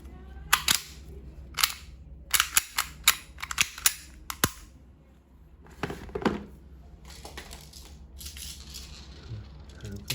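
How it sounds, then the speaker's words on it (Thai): Repeated sharp shots from a BB pistol being test fired after a slide repair, about six loud isolated cracks at irregular spacing, with brief mechanical clicks and handling noise between them. "เดี๋ยวเรามาลองทดสอบยิงกันนะครับ"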